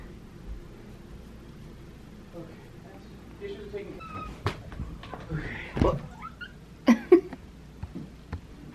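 A cat gives several short meows and chirps at close range, scattered across a quiet room, with soft speech and small shuffling sounds between them.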